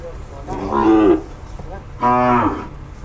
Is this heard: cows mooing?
yes